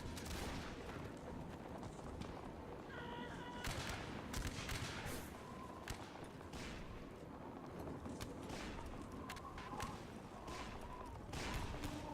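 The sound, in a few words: artillery fire in a video game battle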